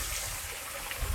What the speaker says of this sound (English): So I just stumbled across this neat little waterfall just right off the trail.